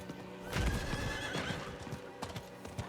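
A horse in the Diablo 4 video game gallops with rapid clip-clopping hooves and lets out a loud whinnying neigh, layered over game effects and background music.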